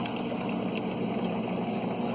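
Washing machine pump repurposed to circulate water through an aquarium sump, a faint steady electric hum with a constant low watery trickle, unchanging throughout.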